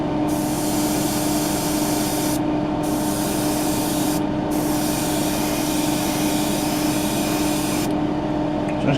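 An aerosol spray can lays paint coats onto parts of a Tamiya 1/12 scale Yamaha YZR M1 '09 model kit. The close hiss runs steadily and loudly, broken by three brief pauses between bursts.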